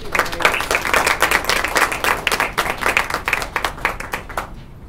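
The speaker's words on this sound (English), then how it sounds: "please get one more round of applause" Applause for a student organization fills the room, many hands clapping in a dense, steady burst that carries on for several seconds before tapering off near the end.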